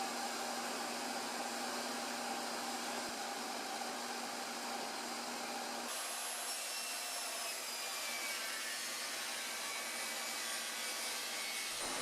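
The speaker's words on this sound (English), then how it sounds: "I'm rounding over 3 of those corners with a 1/4 inch round over bit" Router with a quarter-inch round-over bit cutting white oak corners for a mobile workbench, a steady loud whine that holds throughout and shifts in pitch midway as the cut changes.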